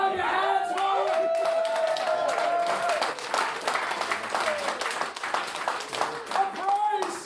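A wedding crowd claps and applauds near the microphone, the clapping thinning out midway, with voices and singing rising over it.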